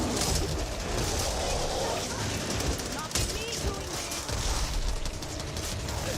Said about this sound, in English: Someone scared birds.